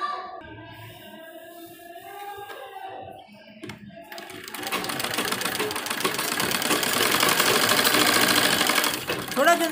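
After a few seconds of talk, a sewing machine runs steadily, stitching a dress sleeve onto a readymade kurti, with a close, rapid whirring hum that builds and holds loud through the rest.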